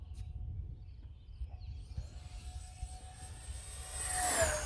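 A radio-controlled A-10 model jet at full throttle, climbing steeply; its engine whine holds steady and then swells louder near the end, with no talking.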